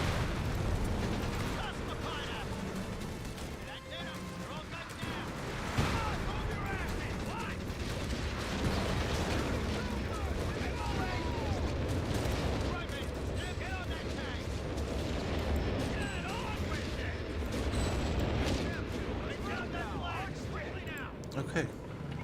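Video game battle in Total War: Warhammer with Kislev and Cathay forces: rapid gunfire and mechanical clatter, a sharp grenade blast near six seconds, then continued dense shooting and rumbling impacts, all loud and busy throughout.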